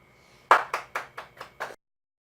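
Six sharp hand claps at the close of a lecture, fairly near and evenly spaced, with each clap fading quickly before silence returns.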